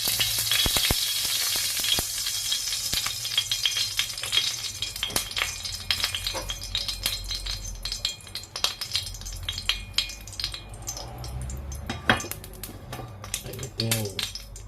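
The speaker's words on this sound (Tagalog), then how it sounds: "kawali natin mainit na. Lagyan na natin ng mantika ha." Oil heats in a hot wok before shrimp go in for a mung bean dish, giving a dense, continuous sizzle with scattered sharp clicks and scrapes, close up, under occasional talk.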